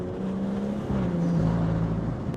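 A BMW M2 driving on a country road, heard from inside as a steady, loud engine drone with a shift in pitch partway through, no voices.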